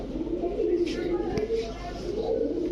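Giribaj pigeons coo repeatedly nearby in soft, low rolling calls, with a brief sharp click partway through.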